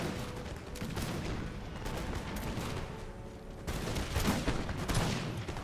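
Continuous musket volley fire on a Napoleonic-era battlefield in the Imperial Splendour game, with dense overlapping crackling shots rolling at a distance, swelling louder toward the end.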